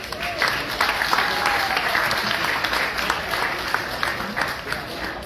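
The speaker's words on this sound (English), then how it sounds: "let us please have a round of applause for everybody" An audience at a cancer research foundation benefit with auctions gives sustained applause, a dense even wash of clapping with faint crowd murmur underneath.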